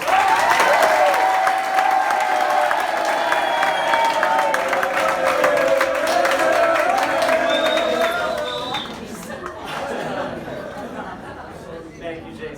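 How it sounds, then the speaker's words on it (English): Loud, sustained applause from a large crowd at a youth futsal closing ceremony, with some cheering, fading out toward the end as a voice begins. "Give me a huge round of applause."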